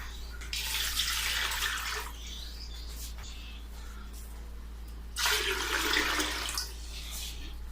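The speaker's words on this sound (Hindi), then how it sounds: "जितने मैंने राइस लिए हैं उनका मैं पानी भी इसी में डालूंगी यखनी बनाने के लिए।" Water poured from a vessel into a cooking pot for beef yakhni, two splashing bursts, the first near the start and the second later, close and moderately loud over a low steady hum.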